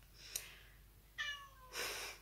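A house cat meows softly several times, a short chirp followed by two longer, rising meows, faint and close in a quiet room.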